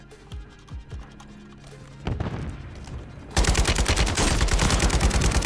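Gunfire in the shooter game Warzone, first scattered single shots, then a sustained, loud burst of rapid automatic fire dominating the second half.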